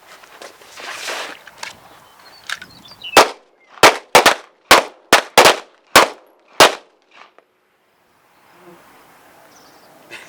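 Nine sharp pistol shots crack out in an uneven burst during a defensive pistol course drill, loud and close, each with a short echo, then the range falls quiet.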